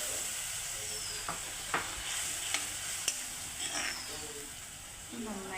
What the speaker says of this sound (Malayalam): വിനാഗിരി ഒഴിക്കുന്നു.